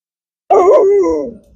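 A farm dog named Duchess lets out a single loud, drawn-out howling bark up close, a wavering yowl lasting about a second before trailing off, with no talk around it.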